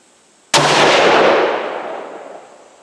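A single loud rifle shot, with a load of Ramshot TAC powder fired at a target, cracks sharply and then rolls away in a long fading echo.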